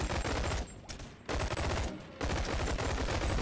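Shotgun fire in the virtual reality game Bonelab comes as loud, dense blasts in two bursts separated by a brief dip, close and harsh with no talk over it.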